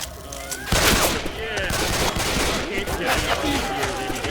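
Heavy railgun fire in the zombie shooter Left 4 Dead 2 on the Hard Rain level: a sharp burst of shots, then a dense, sustained clatter of gunfire with game sounds and character voices mixed in.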